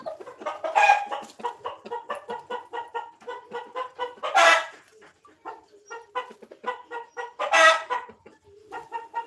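A mother hen clucks in alarm at a nearby cat, giving close, rapid, rhythmic clucks broken by three loud, harsh squawks spaced a few seconds apart; no voices.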